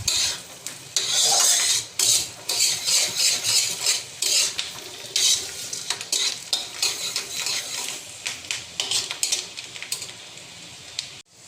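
Ginger and garlic frying in a pan crackle and hiss while a utensil scrapes and stirs in quick, repeated strokes, close and fairly loud, with no one speaking.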